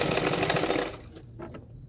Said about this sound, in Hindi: अभी फिटिंग के लिए सिलाई कर रही हूँ।